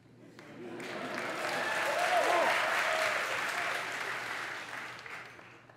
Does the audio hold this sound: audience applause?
yes